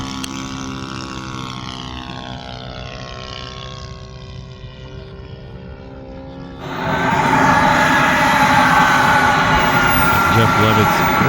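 A scale model T-33 jet flies at a Scale Masters event, its turbine whine sweeping in pitch before a louder, brighter rush of jet noise takes over partway through.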